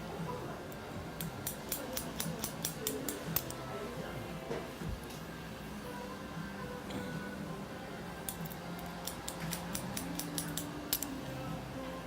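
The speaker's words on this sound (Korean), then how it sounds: "마지막 라인도 사이드에 있는 머리도 한 지점으로 디렉션 해서 잘라줍니다." Scissors snipping hair during a directional layer cut in a salon, a quick run of crisp close snips, a pause, then another rapid burst of cutting, over a faint background hum.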